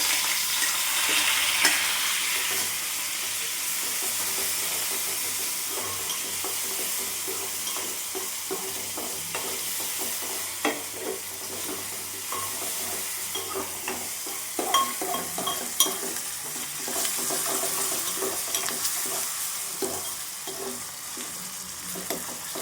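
Onions (regular and small shallots) frying in oil in a pan, a steady close sizzle with frequent scraping stirs throughout, no talk.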